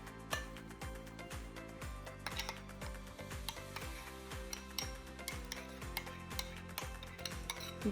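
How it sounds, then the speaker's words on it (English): Potato salad ingredients are stirred together in a bowl, a soft, wet squelching with repeated rhythmic scrapes and clicks of a utensil against the sides, close up, no voices. "we're going to mix it up with the potatoes and the rest of the ingredients"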